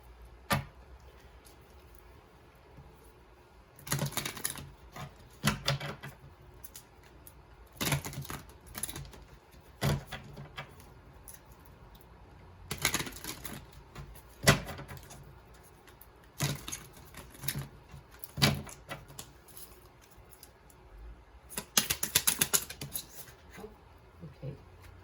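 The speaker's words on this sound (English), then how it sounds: "I am going to pull you some angel cards to bring this to a close" Angel cards shuffled and pulled from a deck, heard as several separate bursts of crisp riffling and slapping, close but fairly quiet, spread across long stretches of near silence.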